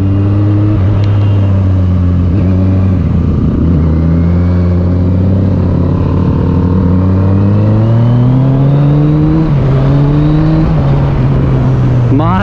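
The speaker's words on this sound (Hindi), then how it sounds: "ये देख लो आ चुके अपने निंजा 300 भी साथ साथ" Kawasaki Ninja 300 motorcycle ridden hard on a road during a drag race, its loud, close engine note climbing steadily through the revs with a brief drop near the end. Wind rush sits under it.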